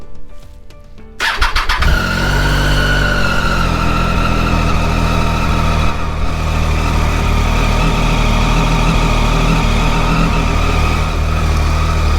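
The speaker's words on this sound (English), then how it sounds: "So let's fire the bike up" After a few clicks, a motorbike engine cranks and catches, then settles into a loud, steady idle with a constant drone, close by and alone.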